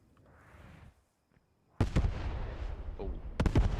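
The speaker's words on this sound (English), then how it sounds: "another allied artillery strike" Artillery strike in the WWII shooter Post Scriptum: after a quieter rumbling lull, a sudden loud barrage of blasts and crackling impacts erupts and rolls on, with a second sharp burst near the end.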